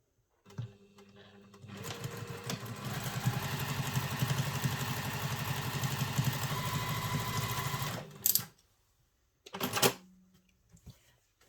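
A sewing machine runs steadily for about six seconds while stitching a travel satchel's lining, starting and stopping cleanly, followed by a couple of brief clicks and handling noises near the end.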